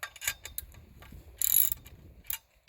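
A socket wrench tightens the bolts holding a crossarm on a rolled-edge utility line post, giving quick, fairly quiet ratcheting clicks in short bursts with brief pauses between them.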